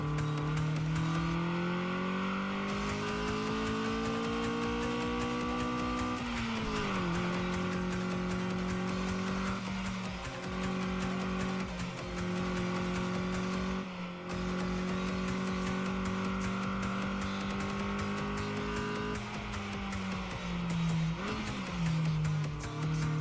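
Engine drone with shifting pitch and tire squeal from a car in the racing video game Redline Reverie during a time attack lap, steady and loud throughout, with pitch drops as the car brakes for corners.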